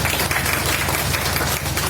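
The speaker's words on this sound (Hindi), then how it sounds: "तालियां बजाइए" Audience clapping at a Hindi kavi sammelan (poetry gathering) in Manpur Dehwa, a steady dense patter of hands filling the whole stretch with a low electrical hum underneath.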